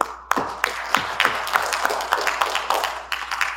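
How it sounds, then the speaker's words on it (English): An audience gives a round of applause in a meeting hall, a scattered run of individual claps heard close and fairly loud with no talking over it. "I think you all deserve a round of applause"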